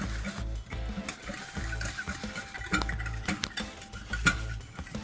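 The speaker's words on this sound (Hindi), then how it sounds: "अब इन तमाम चीज़ों को हम अच्छी तरह से मिक्स कर लेंगे।" Burger marinade with soy sauce and vinegar is stirred and mixed in a bowl, giving a steady, fairly quiet run of scraping, sloshing and occasional clinks with an uneven rhythm.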